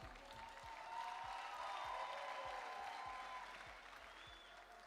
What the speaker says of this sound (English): A round of applause to our minister.